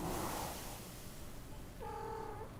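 A tiny kitten purrs softly up close with a low, steady rumble, then gives a brief high mew near the end.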